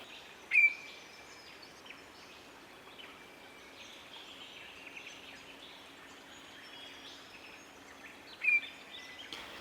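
Wild bird near its nest giving two sharp, brief calls several seconds apart over a quiet outdoor background with faint distant chirps.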